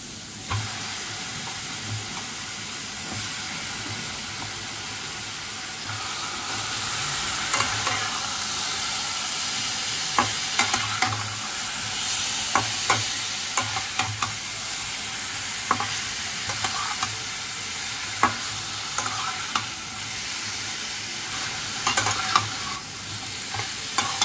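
Chicken pieces fry in a pan with turmeric and ginger-garlic paste for mustard chicken, a loud steady sizzle and hiss with rhythmic spoon scraping and frequent metallic clacks growing busier over time.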